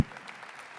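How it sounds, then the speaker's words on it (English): Audience applause at a TC Sessions Robotics 2018 event, welcoming high school robotics teams; a steady wash of clapping from a crowd that begins abruptly and continues evenly throughout. "Go ahead and clap"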